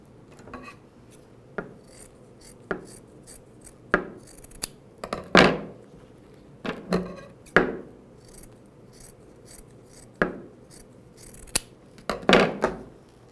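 Scissors snip through fabric while a pincushion is being hand-sewn, a string of crisp close cuts arriving in irregular bursts with short pauses, building to a quick cluster near the end; nobody speaks.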